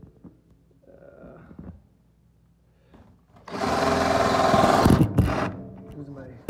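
An electric drill boring holes during a Leed Brakes install on a car with a TKO 600 transmission whirs loudly for about two seconds, then stops, following quieter handling sounds and talk.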